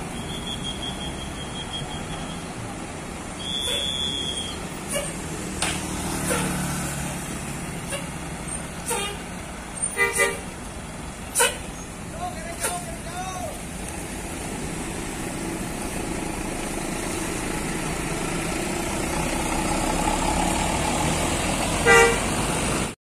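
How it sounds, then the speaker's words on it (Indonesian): A Gelar Pratama Trans tour bus nicknamed Eksotik idles at a Galendo terminal in Ciamis before departing, giving a few short horn toots amid air brake hisses and background traffic rumble. "Persiapan akan diberangkatkan ini bus Gelar Pratama Trans dengan julukan Eksotik."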